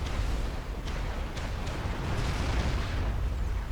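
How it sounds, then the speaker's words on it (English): Artillery in the strategy game Forged Alliance Forever keeps up a dense, rumbling barrage, with several sharper bursts rising out of a continuous low roar of explosions. "what with the artillery bombardment from up here"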